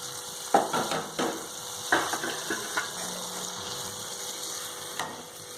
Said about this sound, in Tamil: இந்த தாளிப்படுத்த மேலே கொட்டிடுங்க